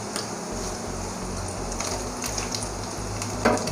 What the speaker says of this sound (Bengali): আপনারা দেখতে পাচ্ছেন পনিরটা একদম হালকা হালকা ফ্রাই হয়েছে